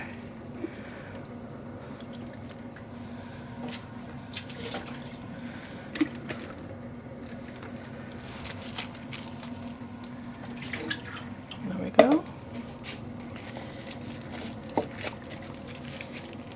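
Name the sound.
water dripping from wrung-out dyed yarn skein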